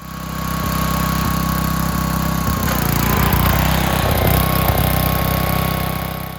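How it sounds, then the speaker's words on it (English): A riding lawn mower engine runs loudly nearby, a steady droning hum with a brief rev and rattling change in the middle. "I just wanted a lawnmower, but I ended up creating a wheelie machine"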